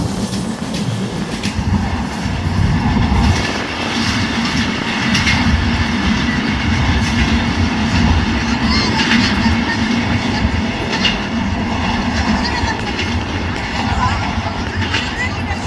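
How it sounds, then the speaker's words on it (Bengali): Madhumati Express intercity train running at good speed through Faridpur College station in rain, a loud, continuous rumble with rhythmic wheel clatter and faint squeals, steady for the whole stretch. "রাজশাহীগামী আন্তনগর Madhumati express Faridpur college through যাচ্ছে"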